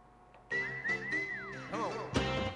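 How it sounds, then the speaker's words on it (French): A person whistles a short tune up close, with sliding, wavering notes in a few quick phrases that end on a sharp higher blast. "Recommence le coup de sifflet"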